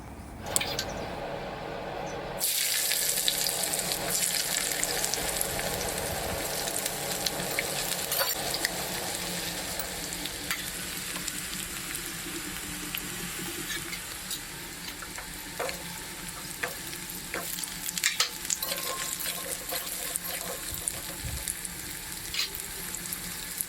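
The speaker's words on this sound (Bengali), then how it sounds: "এবার আমি যে পেঁয়াজটা কুচিয়ে রেখেছিলাম সেটা তেলের মধ্যে দিয়ে দেবো।" Chopped onion dropped into hot oil in a wok for a kofta curry, a sudden loud sizzle that settles into a steady crackling fry with occasional scraping stirs, close up and without talk.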